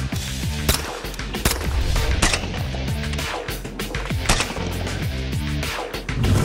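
Suppressed 9mm pistol shots fired into a dirt berm crack out in a rapid, uneven series of sharp reports, each with a short thudding tail, loud and close, with no one talking.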